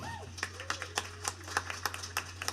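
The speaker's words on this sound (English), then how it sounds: "Feel free to clap for that." Scattered claps from a comic convention panel audience, a few dozen sharp hand claps in an uneven rhythm, fairly faint and distant over a steady low hum, with no talk.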